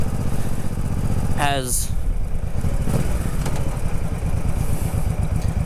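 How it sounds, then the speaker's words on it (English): Honda Shadow 1100 cruiser motorcycle riding down the road, a steady low rumbling engine note with wind rush, continuous and close, while a rider talks over it. "It's ultra comfortable cruising down the road, takes bumps like a champ"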